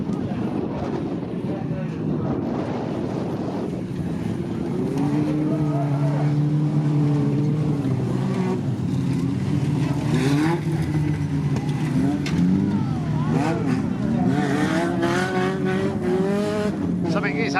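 Banger racing cars circle a watered, dusty track at Ilfracombe, their engines revving and droning loudly in overlapping waves as they pass, with people talking over the racing noise.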